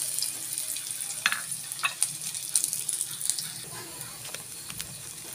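Chopped ginger and plenty of garlic sizzle in hot oil in a small home kitchen while chicken oil is being made, giving a soft, steady hiss with a few sharper crackles and clinks from stirring.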